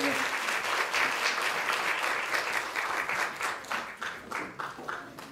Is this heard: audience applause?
yes